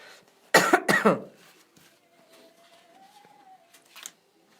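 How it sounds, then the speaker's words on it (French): A burst of two or three close coughs, then a quiet stretch with a faint thin tone and a small noise near the end. "C'est pour ça que je prends des mouchoirs pour tousser dans les mouchoirs."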